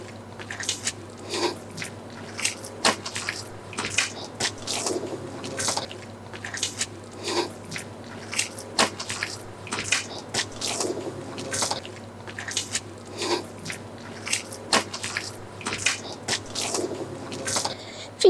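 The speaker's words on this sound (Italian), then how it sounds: "Finiamo di inserire l'ultima acqua rimasta e continuiamo ad impastare." Vesuvio pizza dough at 60% hydration kneaded by hand on a work bench with water added: repeated wet squishing and slapping presses in a steady rhythm, close and fairly quiet, with no voices.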